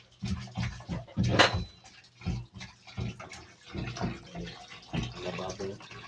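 Water splashing and gurgling into a clogged sink, coming in uneven bursts close by, with people talking over it.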